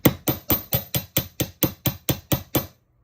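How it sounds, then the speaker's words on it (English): Twelve evenly spaced metal hammer taps flatten the tip of a jewellery wire for dangle earrings. The strikes are sharp, close and alone, with a steady rhythm and no talk. "hammer out the tip"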